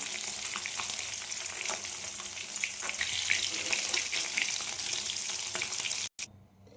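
Bay leaf, dried red chilli and crushed onion fry in hot oil in a wok, a loud dense continuous sizzle with bursts of crackle and stirring, running unbroken until an abrupt cut near the end.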